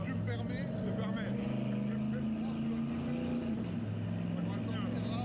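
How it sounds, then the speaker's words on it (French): A sports car engine, a brand-new car worth about 700, revs and accelerates with a loud, steady low drone throughout, while people talk over it. "tu vas entendre le vrai bruit de la voiture"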